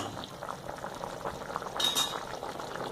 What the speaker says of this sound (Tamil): இப்போ இந்த புளி தண்ணி சேர்த்ததுக்கப்புறம் இந்த குழம்பு வந்து நல்லா கொதிச்சிருச்சு